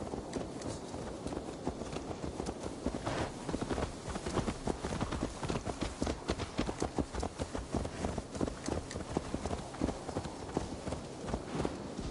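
A horse's hooves clop in a fast continuous gallop in the Assassin's Creed Valhalla video game, a dense rapid rhythm at moderate volume over a low background.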